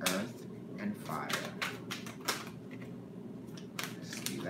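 Rapid papery riffles and soft card slaps from a tarot deck being shuffled close by, irregular bursts over a quiet background.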